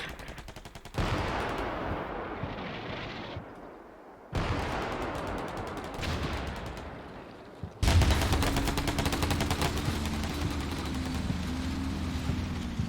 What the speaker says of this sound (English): These are really the best RPG shots that fly under the tank and hit the ground behind.